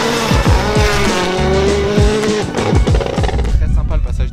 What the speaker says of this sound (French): Très sympa le passage de Thierry